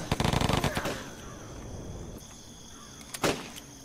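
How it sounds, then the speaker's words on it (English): Rapid gunfire bursts from the video game Steam Squad open loudly, followed by a sustained rumble and a sharp explosive blast near the end, with no speech over it. "He fired like a firework at us, and it just shot over and blew up right on top of our people."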